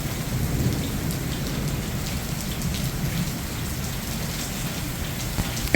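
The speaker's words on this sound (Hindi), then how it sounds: "यही है बारिश।" Steady rain pours down with low rumbling thunder rolling through the storm, a continuous wash of sound with no voices and a brief sharper burst right at the end.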